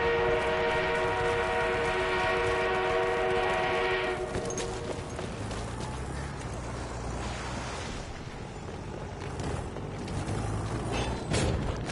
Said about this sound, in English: We have an armored train en route.